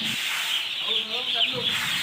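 Chickens cluck softly while being fed grain, a few short calls standing out close over a steady background hiss.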